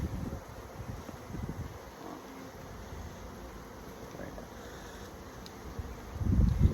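Honeybees hum around an opened hive during an inspection: a low, continuous buzz mixed with wind rumble on the microphone, growing louder toward the end.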